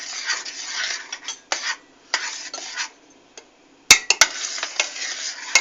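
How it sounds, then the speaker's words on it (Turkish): A spoon stirs keşkül milk pudding mixture in a pot, irregular scraping strokes with a few sharp metallic clinks against the pot, close and clear. "Şimdi terbiyesini ekleyip karıştıracağız."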